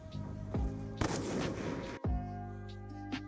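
Sniper rifle shots fired at bots in Black Ops 2 on Xbox: two loud, sharp cracks about a second apart, each with a booming tail over steady game background music.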